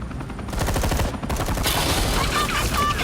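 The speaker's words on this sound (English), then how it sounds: "Shoot them!" Gunfire in the Telltale Batman video game, a rapid, continuous burst of automatic shots, loud and close, with a voice shouting briefly at the start.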